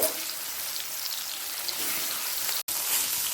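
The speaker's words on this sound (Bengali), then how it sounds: "মাছগুলো দু পিটি ভালো করে ভেজে তুলে রেখে দেব" Rui fish pieces frying in salted oil, a dense, even hissing sizzle filling the clip with a brief dropout near the end.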